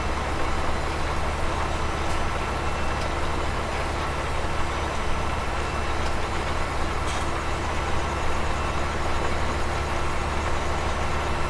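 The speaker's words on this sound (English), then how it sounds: "at 180 horsepower, this tractor is like just enough to pull this thing" A steady, heavy engine drone from a 180-horsepower video game tractor pulling a seeder in Farming Simulator 17 runs continuously with a constant low hum and broadband rumble, like a large tractor working under load, with no talking.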